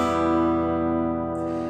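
A guitar strums one open-sounding chord in D A D G B D tuning, and the strings ring out together and fade slowly with no talking.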